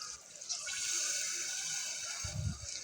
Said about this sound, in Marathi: आता त्यात आपण पाणी टाकूया।